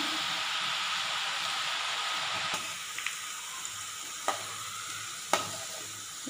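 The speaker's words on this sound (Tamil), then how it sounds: "அடுப்பில் சட்டி வச்சு எண்ணெய் காய்ச்சதும் இதை அப்படியே அதில் புழிஞ்சு விட்ருவோம்" Omapodi murukku dough sizzles steadily in hot oil in a pan, a constant bright frying hiss with a few sharp clicks and taps from utensils.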